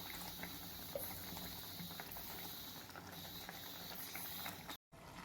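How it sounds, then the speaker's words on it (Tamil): Thick tomato gravy (thakkali thokku) boiling in a pan, a steady dense bubbling and popping that runs continuously, with a brief cut-out near the end. "நல்லா ஒரு 5 மினிட்ஸ் நல்லா கொதித்து மிங்கிள் ஆகட்டும் எல்லாமே"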